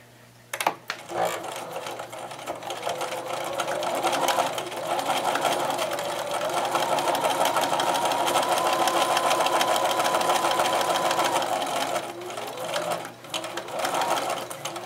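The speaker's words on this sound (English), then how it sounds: "And I'm going to begin to sew." Sewing machine stitching a contoured baby burp cloth, a steady close rapid mechanical chatter running for about eleven seconds after a brief start, with slight changes in pace near the end.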